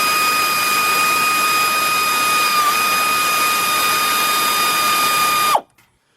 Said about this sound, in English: got a 3/8 drive air ratchet, 10mm socket